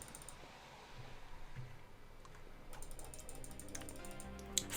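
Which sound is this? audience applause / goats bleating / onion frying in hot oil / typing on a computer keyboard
typing on a computer keyboard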